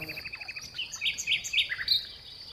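Recorded birdsong plays as a soundscape in a windowless Islamic art exhibition hall. Bright chirps and trills come in quick, overlapping bursts at moderate volume, with no one talking.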